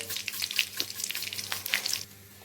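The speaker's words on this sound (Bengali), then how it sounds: "তেল গরম হয়ে গিয়েছে, এখন এর মধ্যে আমি দিয়ে দিচ্ছি ফোড়নের জন্য শুকনো লঙ্কা, গোটা জিরে" Dry red chillies, whole cumin and bay leaf fry in hot oil, a steady close crackling sizzle with small spitting pops throughout, easing slightly near the end.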